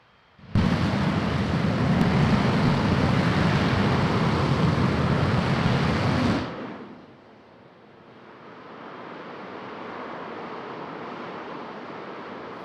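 A SpaceX Raptor rocket engine static fire on a Starship vehicle: a loud, broadband roar starts abruptly and holds for about six seconds, then cuts off, leaving a softer distant rumble that lingers and slowly builds.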